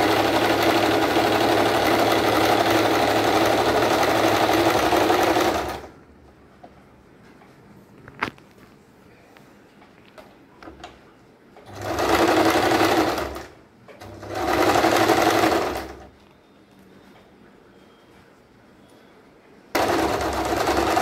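A sewing machine stitches a cushion cover in several loud, steady bursts, a long run at the start, then two shorter runs and another beginning at the end, with near-silent gaps between.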